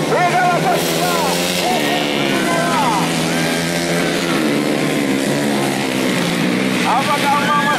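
Taxi motorbikes racing on a track, a dense, continuous roar of several engines with rising and falling revving whines, heard under an excited race commentator's voice.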